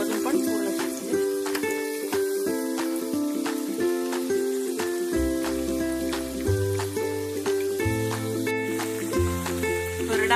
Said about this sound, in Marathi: वडे आपल्याला बारीक गॅसवरच तळायचे आहे, बंद आचेवरच आपल्याला तळायचे आहे।